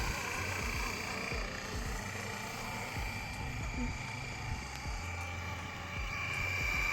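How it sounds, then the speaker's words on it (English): Flywing BO-105 RC scale model helicopter flying outdoors, a steady rotor and motor drone held at constant level throughout under gusty outdoor noise, with people talking nearby. "this helicopter is stunning"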